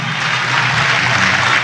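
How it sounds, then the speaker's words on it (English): An audience applauds His Excellency at a Sierra Leone politics and governance event, a dense, steady wash of clapping from many hands, loud and sustained throughout. "on a clap for His Excellency because that commitment is a huge one"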